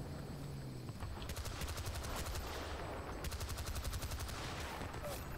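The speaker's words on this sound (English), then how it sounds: "I'm getting on the MG." Mounted machine gun fire from a jeep in Battlefield Bad Company 2 Vietnam on the Phu Bai Valley map, two long rapid bursts of loud, fast, rattling shots over steady game ambience, with no one talking.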